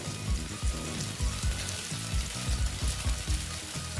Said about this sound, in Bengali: এইবার আমি এটাকে ভালো মতন কষিয়ে নেব